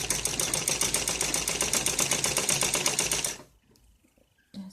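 A sewing machine stitching a ladies' suit of net cloth, running in a fast steady close-up rattle for about three seconds before stopping, followed by faint handling.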